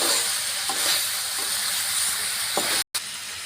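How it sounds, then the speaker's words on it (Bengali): Small vegetable curry with hilsa fish head and spices sautéing in a pan, a steady broadband sizzle with a few soft stirring knocks, close and continuous apart from a brief dropout near the end. "আমি সুন্দর করে এই মশলার সাথে ছোট তরকারিটা কষাই নেব"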